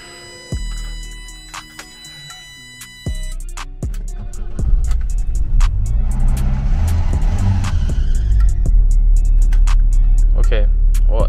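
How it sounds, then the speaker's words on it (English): A 1984 BMW 318i E30 with a failing starter cranks in short bursts that stop and restart, then catches and settles into a loud, steady idle close by. "it started, which is really weird, but it's having trouble starting"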